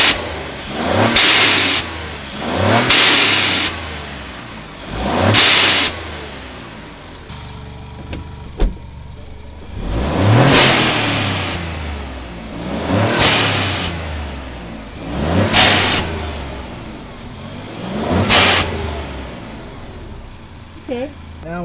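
An Alfa Romeo Giulia Quadrifoglio with its hood open revs repeatedly, about seven loud, close throttle blips that rise and fall at a steady rhythm between quieter idle stretches, with speech present in places.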